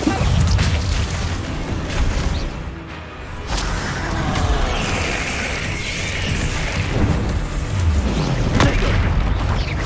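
Repeated Bombarda blasting spells in Hogwarts Legacy, a continuous barrage of loud booming explosions with rumbling low end, dense and sustained with no pause throughout.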